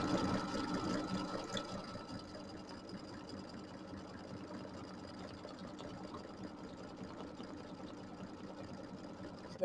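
An embroidery machine stitches a quilt block, giving a fast, even mechanical whir with rapid needle ticks, quiet and steady throughout with a slightly louder start.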